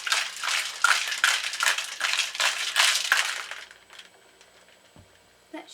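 Cocktail shaker with ice shaken to mix a Bloody Maple Mist drink, loud rhythmic rattling and crunching of ice for about four seconds, then stopping, with a faint clink afterward.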